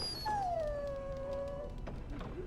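A dog in Dragon Age Origins gives one long, sliding whine that starts high and sinks lower as it fades, heard alone over a faint background hum.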